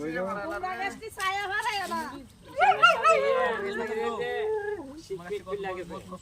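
A dog whimpers and gives high, wavering yips and whines in short bouts, close by, with people talking around it.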